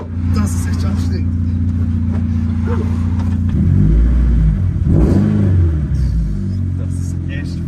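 A Toyota GT86 converted into a road-legal rally car revs its engine loudly and up close, with a steady drone rising into harder accelerating surges midway through and continuing to the end.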